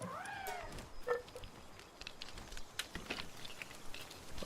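A Grintail, a cat creature in the video game Palworld, lets out a short rising-and-falling meow right at the start, followed by a faint second mew and scattered soft clicks and taps against a quiet background.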